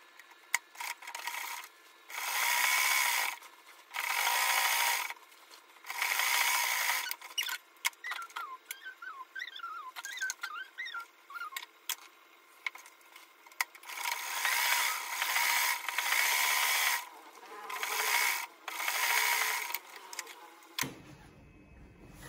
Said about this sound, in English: Now I'll flip over to the other side and stitch as well.